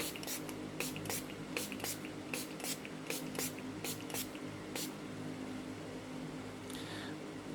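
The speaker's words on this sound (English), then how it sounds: "I'm going to be taking my Iheartrevolution fixing spray in Peaches and Cream and just dousing my face in it." Short bursts of Iheartrevolution Peaches and Cream makeup fixing spray misted onto a face, a quick series of close, hissing pumps in an irregular rhythm over a quiet room hum, fading after a few seconds.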